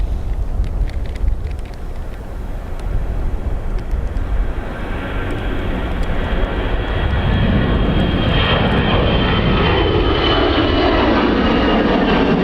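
Jet airliner taking off from Dublin Airport, a loud continuous engine roar that swells and shifts in pitch as the aircraft accelerates, heavy rumble throughout with no voices.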